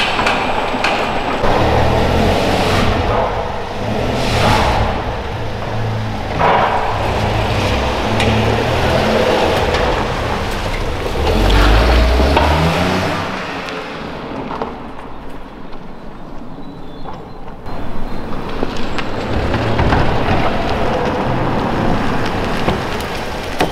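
A small Mii hatchback drives laps around a yard, a continuous broadband engine and tyre rumble with wind and gravel-like hiss rising and falling as it passes, no talking.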